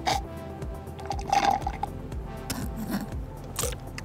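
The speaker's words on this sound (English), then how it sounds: "pour white wine into this glass" White wine poured into a wine glass during a high-speed camera shoot, a soft liquid trickle with small splashes and drips, fairly faint and without talk.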